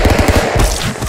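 Gunfire in the Stick Fight video game: a quick, loud string of rapid shots fired in close succession, like a short automatic burst, up close with no voices over it.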